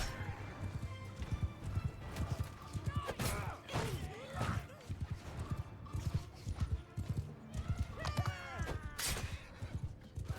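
An armored horse in the Mount and Blade II: Bannerlord video game gallops with steady, rhythmic hoof clatter, joined by a few brief whinnies and the clash and noise of a busy battle.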